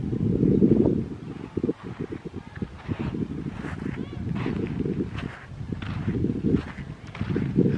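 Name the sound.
wind at the seashore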